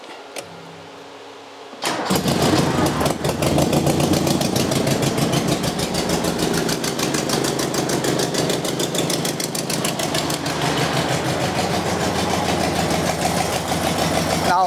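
An old Harley Sportster motorcycle engine cranks over, catches after a couple of seconds and settles into a loud, uneven, rough-running idle that continues steadily to the end, close to the microphone with no talking.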